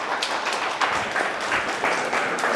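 A gathering at a school event clapping together, a continuous close patter of many hands that holds steady for a few seconds with no speech on top.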